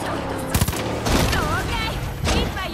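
Rapid bursts of gunfire in Far Cry 5 crack amid a dense, noisy soundscape, with a few sharp shots and whooshing effects.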